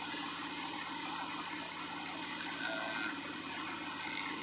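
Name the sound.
big ocean waves in the Java Sea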